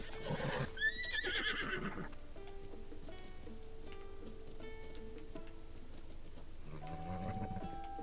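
Horse neighing in The Legend of Zelda: Tears of the Kingdom, a loud whinny at the start followed by soft hoof clops and game music tones underneath.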